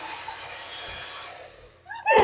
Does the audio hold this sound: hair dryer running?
yes